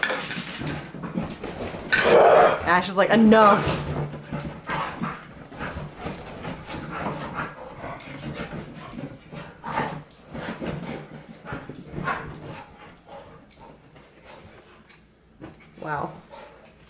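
A puppy whimpers, yelps and growls in an excited fit, its cries rising and falling close by over several seconds while people talk over it.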